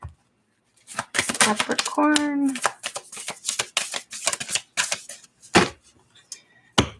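Brisk riffling and tapping of tarot cards being shuffled, several quick bursts mixed with a person talking over them.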